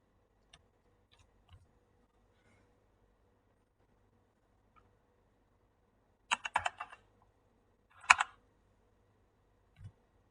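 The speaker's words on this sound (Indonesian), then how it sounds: "Lalu saya mengetikkan lagi" Keys tap on a computer keyboard in a quiet room: a few isolated presses, then two short quick bursts of typing and a final lone keystroke.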